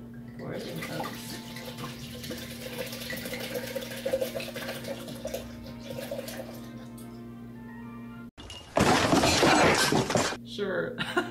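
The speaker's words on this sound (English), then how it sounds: "Next up, caramel vodka. Pour it in cups." Caramel vodka poured from a bottle into cups, a steady trickling splash under ongoing talk, followed by a louder burst of liquid noise near the end.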